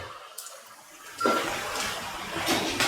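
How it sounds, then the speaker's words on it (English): Ten millilitres of oil are poured into a heated pan for a vegetarian snake gourd yogurt curry. After a quiet start, a sudden soft rushing pour and sizzle begins and carries on faintly to the end. "Heat the pan and pour in 10 ml oil."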